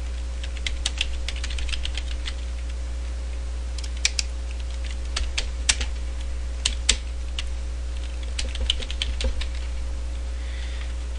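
Rapid clicking keystrokes on a computer keyboard as a command is typed, in irregular bursts over a constant low electrical hum, close and clear with no one talking.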